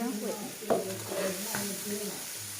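Vegetables with eggplant are stir-fried in a pan, a soft continuous sizzle with a couple of scraping stirs, while a voice speaks faintly in the background.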